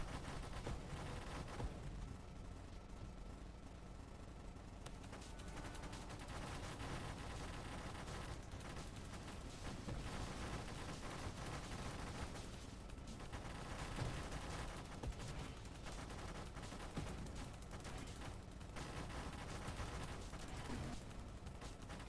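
Ship weapons in the space shooter game Nova Drift fire nonstop, a dense, unbroken rattle of rapid shots at a fairly low, even level throughout.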